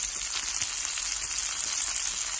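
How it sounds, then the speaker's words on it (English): Onion sizzles steadily in a hot pan while SPAM fried rice is being cooked, a continuous close frying hiss with faint crackles and no talking. "put in some of our onion"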